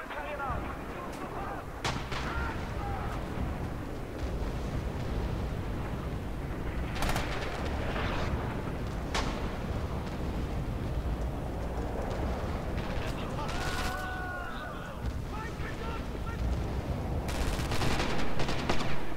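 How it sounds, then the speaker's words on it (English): Artillery fire in a World War II video game, a steady barrage of heavy booms and gunfire rumbling continuously at high level, with sharper blasts standing out now and then. "Okay, the Germans calling artillery."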